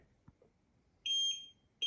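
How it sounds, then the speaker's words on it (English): A warm-body sensing pole prototype sounds a loud, high electronic alarm beep after a hand moves toward its center; a sustained tone of about half a second, then a second beep starting, with soft handling noises before. "If I move my hand towards the center, it's going to create an alarm."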